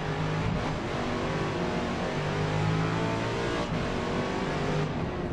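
A car engine driving in the video game Forza Motorsport, a steady, loud droning engine note with slight pitch shifts as it holds speed, playing continuously without speech.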